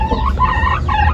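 An Aseel hen clucking and calling repeatedly before laying an egg, close and clear, a short burst of rhythmic, slightly shrill clucks with no talk.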